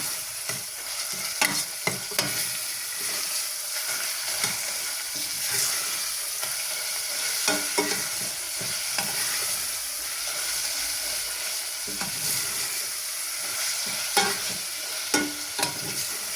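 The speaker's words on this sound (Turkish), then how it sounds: "Şimdi 100 gramdan az fazla kıymasını kavuralım." Minced meat is stirred and fried with onions in a pan, a continuous close sizzle broken by repeated scraping and stirring strokes of a utensil, moderately loud, with no talking.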